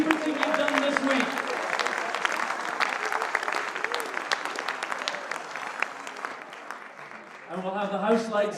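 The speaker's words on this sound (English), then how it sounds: "Give yourselves a round of applause" A hospice reunion concert audience gives a steady round of applause with dense clapping throughout. A voice talks briefly near the start and again as the clapping fades at the end.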